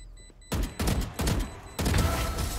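Gunfire from a video game shooter in a last-player-standing match: four loud, sharp shots in quick succession, each with a short decaying tail, the last one longer, with no talk over them.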